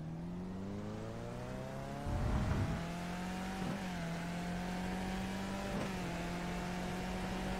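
Race car engine in the iRacing sim at Suzuka, a Skip Barber car, drones steadily at high revs, then pulls through rising pitch sweeps with a brief rough burst and two short shifts or blips as it accelerates.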